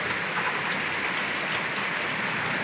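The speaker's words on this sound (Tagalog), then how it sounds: "Ayan, malakas ang ulan." Heavy rain pours steadily, a dense even hiss of drops on surfaces close by, continuous and unbroken with no voices.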